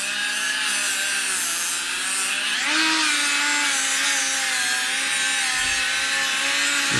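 A power tool strips clear coat from a Camaro SS wheel during a curb rash repair, giving a steady, loud, close whine and grinding rasp that holds throughout with a slight pitch shift midway.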